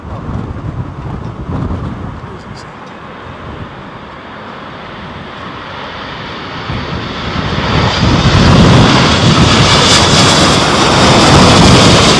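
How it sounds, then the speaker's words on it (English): A Boeing Dreamliner airliner approaching to land at Heathrow during a storm roars in from a distance, its jet engine rumble and wind noise growing steadily louder and closer until it fills the scene, with no voices. "Looks like a dreamliner. It's coming straight at me."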